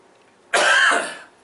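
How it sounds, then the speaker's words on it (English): A single harsh, raspy cough bursts out close by and trails off after about half a second. "Pardon me for coughing so much."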